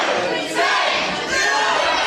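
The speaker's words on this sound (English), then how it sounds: "Why is this stupid crowd counting?" A wrestling video game crowd chanting along to a count, a loud, dense roar of many voices rising and falling in rhythmic bursts.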